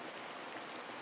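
Sudden rainfall in the Sakura video game, a steady broadband hiss of falling rain and pattering drops, continuous and even throughout the short stretch with no voices.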